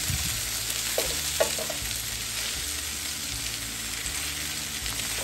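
Onion roasting in a hot pan for salsa tatemada, giving a steady close sizzle with a few faint ticks and crackles over a low background hum.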